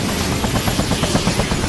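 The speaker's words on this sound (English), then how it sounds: "Alright, our engines are shutting down, and we will get out of the helicopter." Helicopter engines whine and thrum as they shut down, a loud, close, continuous drone with a pulsing rotor beat and no talking.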